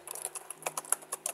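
Quick bursts of keystrokes on a computer keyboard while code is typed, irregular light clicks in short runs, close and clear without speech.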